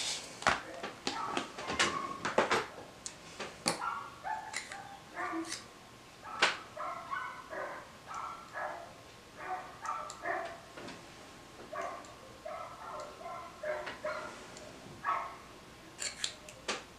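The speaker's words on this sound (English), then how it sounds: "there's a dog outside, I apologize. A couple of them." A couple of dogs bark outside in repeated short yaps, faint and distant, mixed with sharp nearby snipping clicks and no speech.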